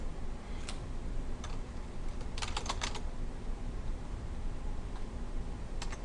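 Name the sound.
typing on a computer keyboard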